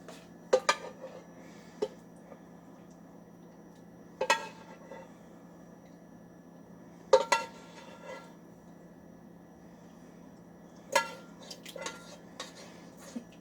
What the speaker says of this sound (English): now we're just going to put the remaining sauce between each pan